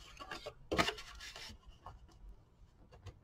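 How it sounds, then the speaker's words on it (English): A bone folder burnishes paper down on a mini album lid: a few short, quiet rubbing strokes, one firmer scrape in the middle, then faint light rustles. "you can get your bone folder if you need to and just burnish that down"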